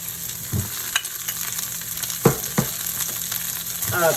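Sausage fries in a pan with a steady close sizzle, broken by a few scraping stirs and clinks of a utensil against the pan, with no voices.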